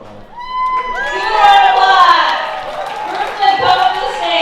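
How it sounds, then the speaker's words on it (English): Reception crowd cheering, whooping and shouting for a dance group called to the stage, loud and excited, with high voices and a tonal, siren-like squeal rising through the noise. "Irvin, let's give it up for the group squad."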